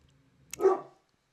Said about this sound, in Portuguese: A minha cachorra tá latindo e ela não deixa eu gravar.